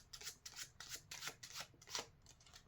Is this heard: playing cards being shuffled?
yes